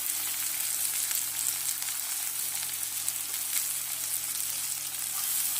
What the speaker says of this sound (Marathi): आता 1-2 मिनटं कांदा चाळणीला भाजू दे.